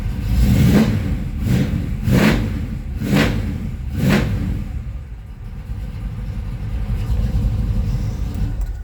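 A 1970 Chevelle's engine, close by, gets five loud, evenly spaced throttle blips roughly a second apart, each surging and dropping, then settles back into a deep, steady idle rumble.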